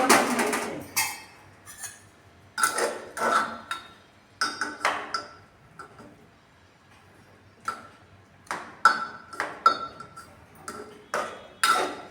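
A pressure cooker lid holding potato and soya chunk curry is worked open, producing a string of sharp, close metallic clicks and taps in irregular clusters with quiet gaps between.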